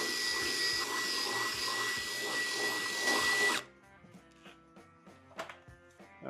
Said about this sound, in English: drill the other 3 mounting bolt holes on each side